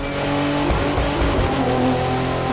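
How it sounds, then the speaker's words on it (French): A race car engine in the video game The Crew 2 drones and revs steadily, loud and close, with shifting pitch and no voices. "Je suis tellement habitué à écouter le moteur."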